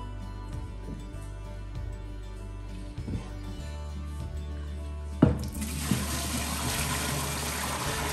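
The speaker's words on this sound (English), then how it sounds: "and I get to wash the pot down." Tap water runs into a kitchen sink as a coffee pot is rinsed, a low steady flow that suddenly turns into a loud, bright gush partway through, with faint clinks and no talking.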